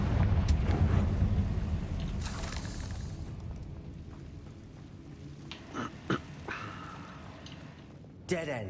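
Confringo fire-blast spell cast in Hogwarts Legacy: a loud, deep rumbling boom that opens the moment and slowly decays, followed by a few sharper cracks and thuds later on.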